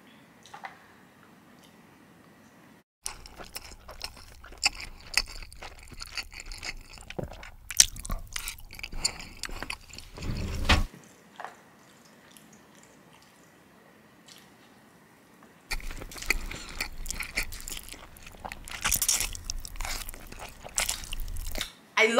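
Someone eats spicy Malaysian noodles close to the microphone, bursts of wet chewing, slurping and crunchy bites separated by quiet pauses.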